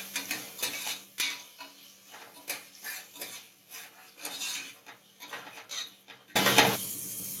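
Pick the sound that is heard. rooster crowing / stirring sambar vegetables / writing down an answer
stirring sambar vegetables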